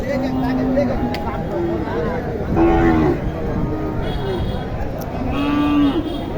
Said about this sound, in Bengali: এই গরুটা তো অনেক ভালো মানের একটি শাহিওয়াল